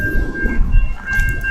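Train approaching a railroad crossing as the gates close, heard from inside a truck; a loud rumble with a sustained warning tone over it, no speech.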